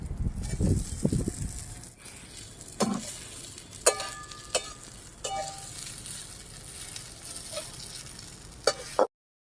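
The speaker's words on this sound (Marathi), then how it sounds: "आता आपण त्याच्यात साबुदाणा टाकूया." Sago pearls are added to browned potatoes frying in a pan over a wood-fired stove, giving a soft sizzle with a scraping stir early on and several sharp metallic clinks of a utensil against the pan.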